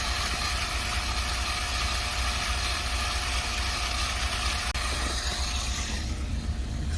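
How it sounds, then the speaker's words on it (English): A water pump emptying a propped-up tank runs with a steady mechanical hum and vibration, close and continuous, its tone shifting near the end as it begins to run dry. "You can hear a change in sound on that pump once it goes dry"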